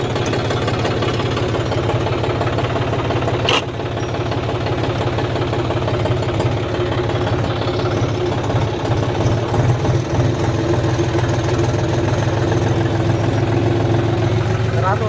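A John Deere 5045 tractor engine runs steadily in reverse, a loud, continuous low diesel rumble with a faint knocking texture and one brief sharp click early on.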